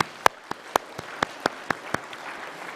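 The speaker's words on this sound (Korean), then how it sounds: "우리 박수로 환영하겠습니다" Applause from a church congregation, with sharp individual claps standing out in a steady rhythm over a softer patter, moderately distant.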